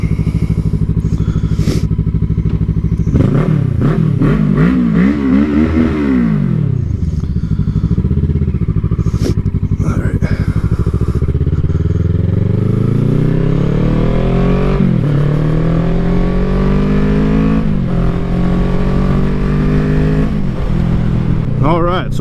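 Motorcycle ridden on the road, a loud, close engine revving and shifting through gears with rising and falling pitch sweeps, continuous wind buffeting throughout.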